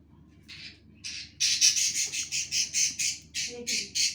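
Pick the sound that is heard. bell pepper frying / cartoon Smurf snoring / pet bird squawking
pet bird squawking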